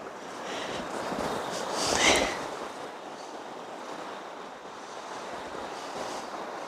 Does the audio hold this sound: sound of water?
yes